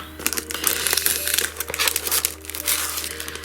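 Sheets of craft paper from a subscription craft box are unwrapped and opened out, making loud, close crinkling and crumpling in bursts with short pauses between handling movements.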